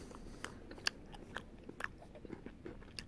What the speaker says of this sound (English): I bit into the middle, and there was a crunchy taste